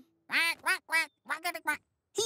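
A series of short nasal quacks in quick succession, loud and close, sounding like a voice imitating a duck.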